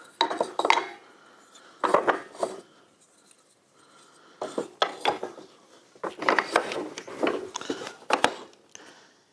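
Clamps being set on a handmade guitar part in a woodworking shop, giving bursts of metallic clinks, ratchety scrapes and wooden knocks in uneven clusters, close and fairly loud with quiet gaps between.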